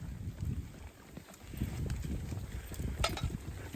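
Hooves of a draft horse mare clop at a steady walking pace outdoors, soft and muffled, over a low rumble of wind.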